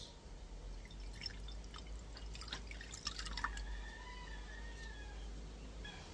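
Apple juice is poured into a sweet and sour sauce for boneless milkfish, a faint, quiet trickle with soft drips in an otherwise still kitchen.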